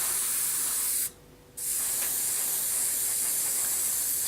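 Aerosol primer sprayed onto a Deathwing miniature model, a steady close hiss that cuts out briefly and then resumes for the rest of the clip.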